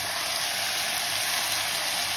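Fresh tomato puree hitting hot oil in a pan gives a steady, loud broadband hiss and sizzle with no breaks, close up, and no voices over it.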